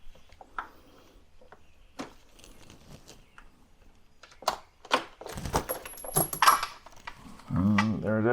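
A 10mm socket on an extension loosens a bolt in a Jeep Gladiator A-pillar: scattered metallic clicks and rattles build to a cluster of sharp taps, and a voice speaks briefly at the end.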